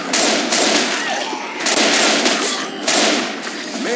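Rapid bursts of gunfire in the zombie shooter Left 4 Dead 2, loud and continuous with dense overlapping shots and brief swells throughout.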